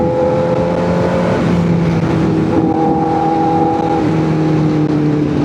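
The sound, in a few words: motorcycle engine revving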